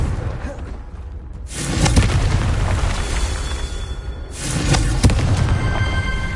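In Hogwarts Legacy, the Confringo spell goes off as two loud, booming, fiery blasts a few seconds apart, each with a broad rushing roar.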